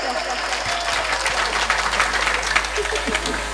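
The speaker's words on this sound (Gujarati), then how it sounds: "એકવાર જોર તાળી બજાવો" An audience claps through a live comedy show, a sustained and fairly loud burst of applause with scattered cheers and voices, over a steady low hum.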